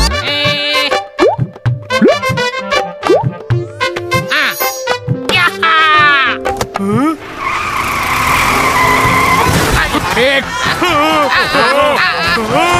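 An engine revs and tires screech in a skid amid animated, cartoonish voices and musical effects in a Bengali cartoon, the squeal rising loudly midway.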